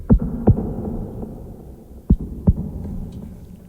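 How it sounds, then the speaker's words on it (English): Heartbeat-like synth drum from the AXIS Oblivion cinematic motion plugin, two paired deep thumps a couple of seconds apart over a low humming drone. "I can make a drum sound just straight away"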